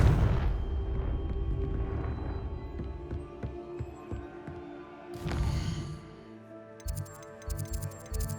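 In Hogwarts Legacy the Confringo blast spell sets off a run of deep booming explosions and rumbling impacts. Sharp crackles follow, then a quieter stretch of ticking game effects.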